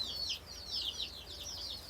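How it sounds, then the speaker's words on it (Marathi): Chickens clucking softly while pecking grain, several short high calls in loose succession, fairly faint and close with no talk. "एकावर एक चढून आता कोंबड्या दाणे खातात आहेत"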